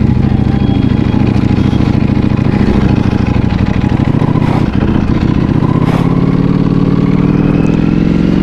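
A super sports motorcycle ridden at steady speed, its engine droning loud and continuous close by with rough, buzzing texture and wind noise throughout.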